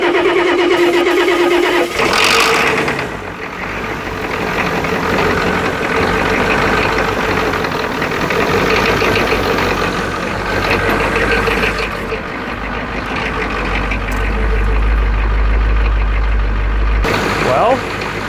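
A Ford 6.9 IDI turbo diesel engine cranks and catches, then settles into a steady loud idle with a low rumble, briefly stumbling before running on its own; a voice speaks over the start.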